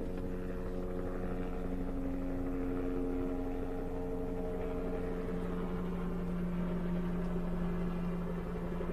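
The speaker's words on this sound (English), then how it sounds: "You can hear the helicopter, I believe, above me." A steady low mechanical drone with droning tonal hum, like a helicopter circling somewhere overhead, continuous and fairly faint with no talking.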